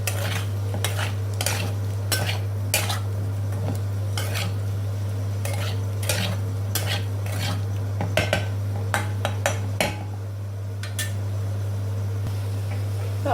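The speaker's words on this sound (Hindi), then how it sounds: "पहले मैंने आलू में मसाले, धनिया, हल्दी, लाल मिर्च, इसे मिला देंगे।" Potatoes with coriander, turmeric and red chilli spices are stirred in a pan on the stove. A steady low hum runs throughout under repeated close scraping and clinking of a utensil against the pan.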